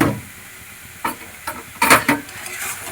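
Taro greens with fried prawns and spices are stirred in a pan: soft sizzling with a few distinct scraping and clattering strokes of the spoon, close and brief.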